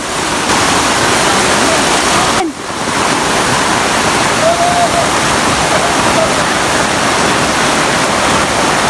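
Floodwater rushes loudly and steadily around a house, a constant close roaring wash with a brief dip, while people talk faintly over it.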